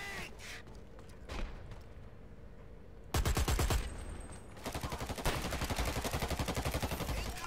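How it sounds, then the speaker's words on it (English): Airstrike in the online shooter Dirty Bomb, heard as loud, dense bursts of rapid-fire explosions and gunfire that start abruptly and continue steadily, after earlier scattered shots. "Oh, airstrike."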